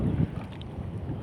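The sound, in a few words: strong wind and waves at sea while fishing from a boat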